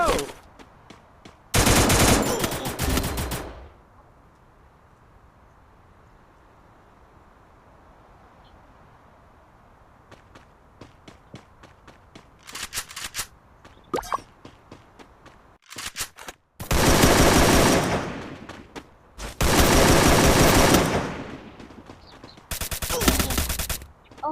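Automatic gunfire in a video game, several loud sustained bursts separated by quieter stretches of footsteps and small clicks, close and dominant.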